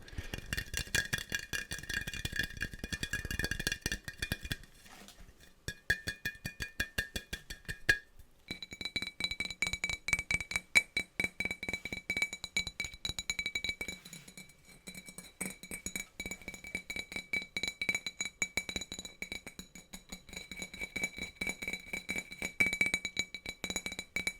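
A glass object is handled at close range with repeated clinks, taps and light rattles, with short bursts alternating with denser clusters throughout, faint and unaccompanied by speech.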